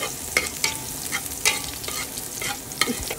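Garlic sautéing in a pan for chicken with pineapple and coconut milk: a close, steady sizzle punctuated by sharp scraping stirs of a spatula, with no talking.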